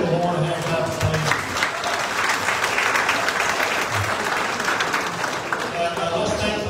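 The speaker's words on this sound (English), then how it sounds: "Let's go ahead and give the Lord a hand clap of praise." A church congregation at a wild game dinner claps in praise, a dense, sustained round of applause filling the room with a lively crowd feel, while a voice speaks over it.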